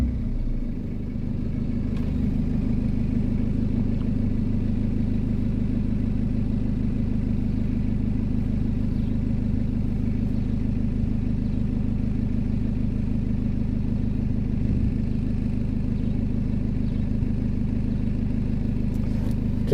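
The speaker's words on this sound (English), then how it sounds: "let's fire up the car now and see what pops up" A BMW E60 sedan's engine fires up and settles into a steady, even idle, a continuous low rumble that stays close and constant with no talking.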